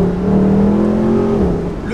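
A 571-horsepower Mercedes SLS AMG Roadster engine revs hard and loud while driving, holding a steady, deep, droning pitch that dips slightly near the end.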